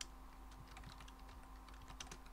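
Rapid typing on a computer keyboard fills the moment, a quick, irregular patter of close key clicks over a steady electrical hum, with no voices.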